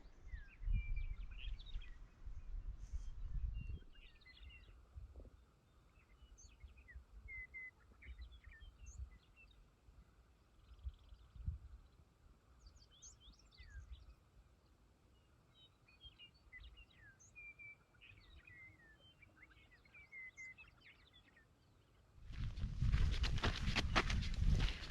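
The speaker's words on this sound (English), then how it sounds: "there are 4 birds in particular that we're hearing right now. The western meadowlark, lazuli bunting, chipping sparrow, and a white-crowned sparrow." Songs of western meadowlark, lazuli bunting, chipping sparrow and white-crowned sparrow on a hot, sunny May hillside of balsamroot in eastern Washington, heard as scattered thin chirps and warbled phrases at a moderate distance, with footsteps and rustling close by.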